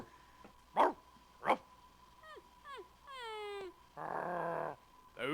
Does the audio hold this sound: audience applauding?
no